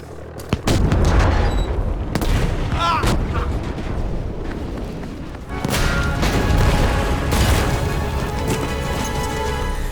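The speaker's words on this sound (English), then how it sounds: "Yeah, that's because my bombs went off." Bombs detonate in the Battlefield V video game, heavy booms and crashing blasts repeating over a dense wash of gunfire and battle noise, with voices talking underneath.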